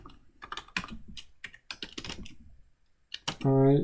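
Computer keyboard typing while simple C++ code is written, a loose run of quick, close clicks and taps with short pauses, ending in a louder burst of sound.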